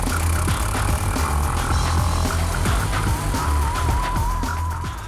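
A KTM LC4 big single-cylinder supermoto engine runs hard and loud close by, a steady buzzing drone with a revving pitch that wavers near the end, no voices over it.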